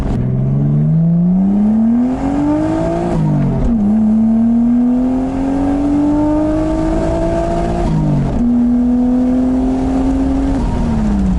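Japanese-market car engine revving hard through the upper rev range, a loud close droning whine climbing in pitch through several gear changes, with brief dips at each shift.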